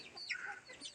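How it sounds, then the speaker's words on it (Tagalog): Chickens on a backyard farm, young birds a few months old, making soft, faint clucking calls in a short burst with no talk. "So dito naman po yung mga manok na tinagaw"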